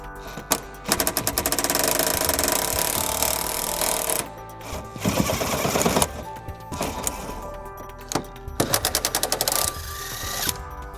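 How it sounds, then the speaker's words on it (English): Rapid rattling bursts of an impact wrench or ratchet driving an 18mm socket on the driver's side frame rail bolts of a 2003 Jeep Grand Cherokee, several loud close runs separated by short pauses. "We'll be using an 18mm socket to remove those."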